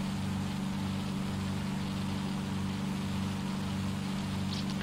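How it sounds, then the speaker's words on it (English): Steady rain patters over a low aircraft engine drone in a flight simulator, constant and even throughout with no pauses. "Got a little rain sound effect there too."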